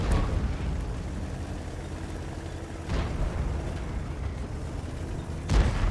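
Heavy SU-152 tank gun firing in World of Tanks, with a couple of deep booms breaking through a constant low rumble of engine and battle noise, no speech.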